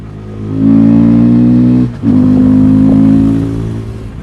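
A 2024 KTM 390 Adventure motorcycle engine, fitted with SMT modifications, revs loudly and close up in two sustained, steady-pitched pulls separated by a brief drop, then settles toward idle.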